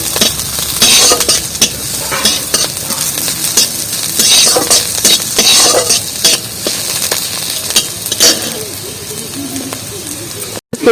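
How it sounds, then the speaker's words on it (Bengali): Onions frying in a pan, a crackling sizzle with clinks of stirring and a loud scrape near the end, with background bird cooing and someone talking faintly underneath. "তো পেঁয়াজটা আমি ভেজে নিচ্ছি।"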